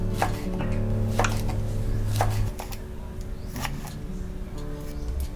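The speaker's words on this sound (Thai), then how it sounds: "เสร็จแล้วก็ให้เราซอยนะคะ เป็นบางๆค่ะ" A knife thinly slices Chinese kale on a cutting board, a series of crisp, uneven chopping strokes close by, with a low hum behind.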